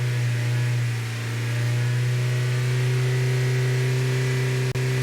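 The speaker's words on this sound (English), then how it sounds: "So I'm gonna increase the engine RPMs." A Honda Civic engine with a lean fuel condition hums at a steady high idle near 3,000 RPM, a close, even drone with a brief dip near the end.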